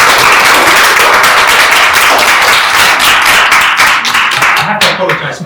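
An audience at a bidding-industry event in Korea claps loudly and continuously, a dense close burst of applause that thins out toward the end as voices start.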